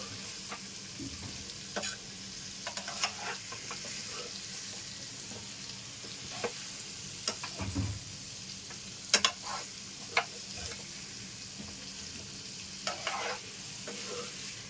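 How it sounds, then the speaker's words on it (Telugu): Masala fries in a pan under a constant soft sizzle as a spoon stirs it, with intermittent scrapes and taps against the metal throughout. "మసాలా అంతా నేను పట్టేటట్లు కలుపుకోవాలి."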